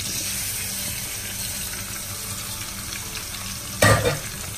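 Crushed garlic, ginger, green chili and cumin frying in hot oil with curry leaves for a spicy chicken sausage roast, a continuous close sizzle ending in a short sharp burst of stirring.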